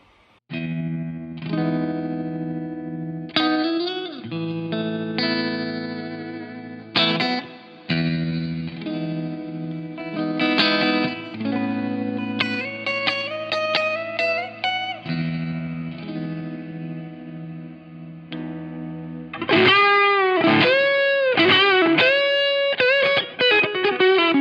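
An electric guitar played through a Line 6 POD Go set to tremolo and a long reverb, with sustained notes and chords that pulse and wash into trailing echoes, loud and alone, ending in wobbling, swelling tones.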